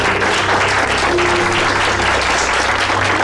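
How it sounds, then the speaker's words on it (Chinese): Dense, steady applause from a group fills the whole stretch, continuous clapping at fairly close range with no pauses. "应该鼓掌"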